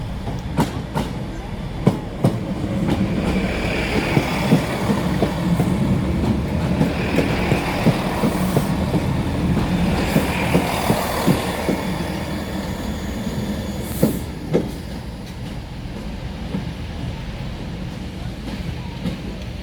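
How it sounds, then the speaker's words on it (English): A Class 165 diesel multiple unit train rumbles and clatters steadily nearby as it arrives at a station, wheels clicking and faint squeals over a continuous engine drone, with no talk. "I walked up to the crossing where this 165 was trundling into the station."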